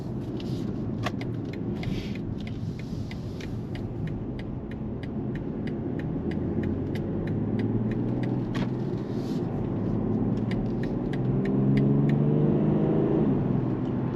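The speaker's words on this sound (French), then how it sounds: "on y va juste au couple, et ce 6 cylindres est très impressionnant, puisque vraiment on n'a pas besoin d'écraser la pédale d'accélérateur" BMW 340d Touring six-cylinder diesel pulling on torque, a steady deep engine rumble that builds gradually with a low whirring drone, heard from inside the car with no talk.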